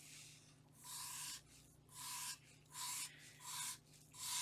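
Glitter flakes being rubbed flat onto a tumbler cup, five or six soft, rasping strokes in a slow even rhythm, close and quiet, with no talking.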